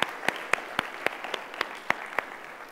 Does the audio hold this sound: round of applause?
yes